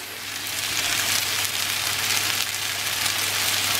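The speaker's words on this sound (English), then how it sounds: "over here, Mom is frying the beef" Steady, close sizzling of beef browning in a hot pan for stew, a continuous crackling hiss with a low hum underneath and no talking.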